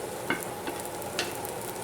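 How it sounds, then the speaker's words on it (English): Fried rice stirred in a hot pan, a few quick scraping strokes of the utensil over a soft continuous sizzle, close and fairly loud. "We'll give it a little stir."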